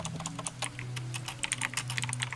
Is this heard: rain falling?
no